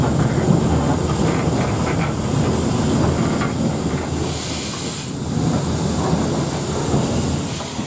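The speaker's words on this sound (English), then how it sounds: "The London, Midland and Scottish Railway IVAT Class 2 260 is a class of steam locomotive designed for light mixed traffic" LMS Ivatt Class 2 2-6-0 steam locomotive train running, a loud continuous rumble and hiss of the train in motion with faint rail clatter and a brief bright whistle-like hiss midway.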